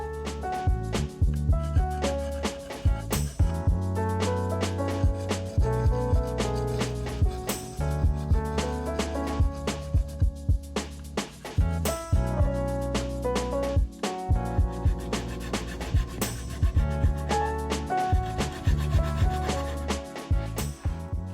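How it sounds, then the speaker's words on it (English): Guitar fret ends on a travel guitar build being filed into a hemispherical profile, with repeated short rasping strokes in an uneven rhythm, close up, over a backdrop of tonal musical notes. "In this case, I'm filing a hemispherical profile into them"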